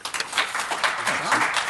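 An audience at a county officials' legislative conference gives a speaker a short round of applause, a dense burst of clapping heard up close.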